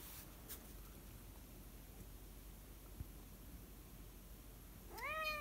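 Near-silent room tone runs for several seconds, then a single cat gives one short, rising meow close by right at the end.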